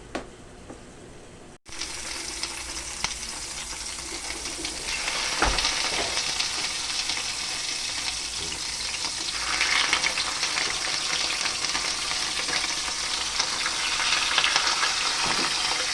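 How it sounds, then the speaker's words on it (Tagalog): Milkfish fries in a pan after a short quiet start, building into a loud, continuous sizzle with bubbling and spitting that swells at times and holds for the rest of the sixteen seconds, with no talking. "itong bangus. Yan po. Iprito po muna natin yan."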